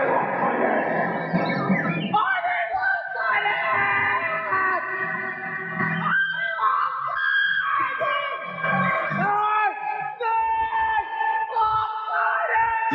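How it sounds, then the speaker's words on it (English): A girl in the audience at a live show in Budapest shrieks and screams loudly and continuously amid the noisy crowd, her voice sliding in pitch. "You got quite the girl screaming there."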